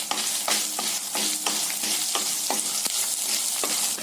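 Pepper, fenugreek, dried red chillies and curry leaves roasting in an iron pan, a steady dry sizzle broken by regular scraping stirs roughly every half second, close and continuous with no talking.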